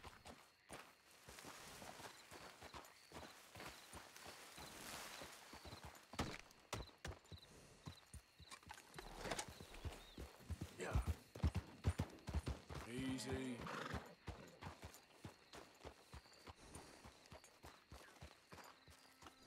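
A Kentucky Saddler horse in the video game Red Dead Redemption 2 clip-clops along with steady, close hoofbeats, with a person talking over them.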